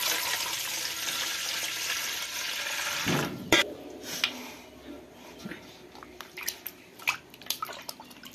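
Flour dough being washed and squeezed by hand in water, first a steady rush of running water, then wet splashes and drips at close range.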